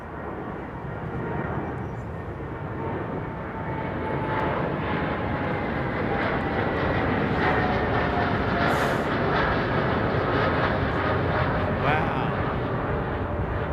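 A Boeing 787 Dreamliner at London Heathrow roars steadily at moderate distance, its broad jet rumble swelling slightly and holding, while a man briefly exclaims over it.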